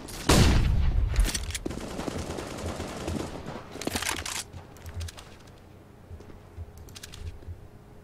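Automatic gunfire in the video game CS:GO opens with a loud rapid burst, then continues as further volleys and scattered shots that fade to quieter distant fire.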